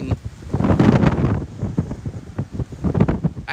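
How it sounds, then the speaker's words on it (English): Wind buffets a microphone outdoors while someone walks, a loud, rough low rumble that surges and fades in gusts throughout, strongest in the first second and a half. "Wow, this is gonna be windy as hell."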